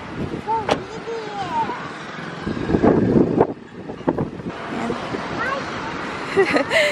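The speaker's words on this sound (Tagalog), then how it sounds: "It's so windy." Gusty wind buffeting the microphone outdoors in Bangalore, India, in rough bursts, with voices talking intermittently underneath.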